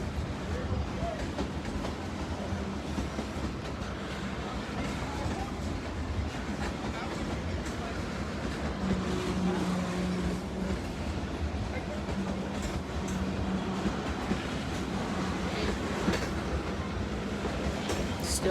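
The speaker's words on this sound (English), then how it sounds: "It's like the longest freight train I've ever seen." A very long freight train rolls past at Hicksville at night, a steady loud rumble and clatter of wheels and cars that continues without pause, with occasional higher rail screeches over the roar.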